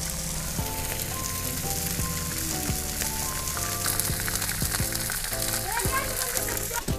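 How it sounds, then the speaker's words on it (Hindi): Edible gum (goond) frying in a kadhai of hot desi ghee, a dense, continuous bubbling sizzle with crackles throughout and some faint tonal background, no speech. "घी जमा गर्म हो गया है। दे भाई यो आ गया गोंद"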